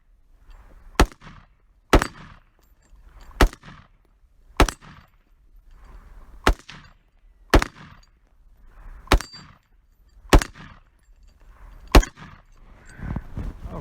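Evenly spaced AR rifle shots crack one at a time, about ten in all, each followed by a faint ring as the bullet strikes a steel target downrange, with quiet gaps between shots.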